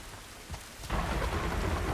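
In The Last of Us, steady rain hisses across surfaces, then a deep thunder rumble rolls in partway through and swells, leaving a heavier, louder downpour mixed with the thunder.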